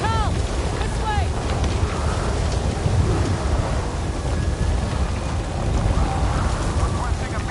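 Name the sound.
storm with rain and thunder in a video game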